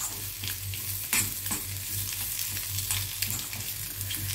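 A spatula stirs a boiled egg stir-fry (mutta upperi) in a pan, with a steady sizzle and repeated light scraping strokes close by over a low hum.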